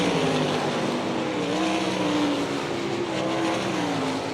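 World of Outlaws sprint cars racing on a dirt oval at Hartford, Ohio, a continuous loud engine roar with rising and falling pitch as the pack goes down the backstretch into the turns.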